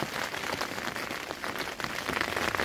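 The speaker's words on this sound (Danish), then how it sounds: "Ja, det er altid hyggeligt, når det regner." Rain falling steadily on a surface in the Picos de Europa mountains, heard from indoors as a dense, even patter of drops, fairly close and continuous with no talking.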